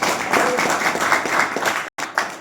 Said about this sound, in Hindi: हम चाहेंगे कि उनके नाम पे जोरदार थोड़ा सा ताली हो जाए